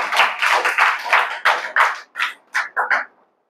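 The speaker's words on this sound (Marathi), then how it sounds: "वाजवा पुन्हा टाळ्या" A small group claps for a top-ranked student at a results ceremony, a few uneven bursts of hand claps that thin out into scattered, isolated claps before stopping.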